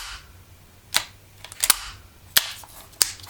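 A Beretta Elite II CO2 air pistol fires four sharp, close pops spaced unevenly about half a second to a second apart, each with a brief hissy tail.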